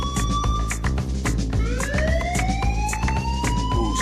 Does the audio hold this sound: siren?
yes